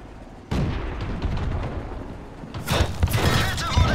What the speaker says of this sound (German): Die Kette wurde getroffen.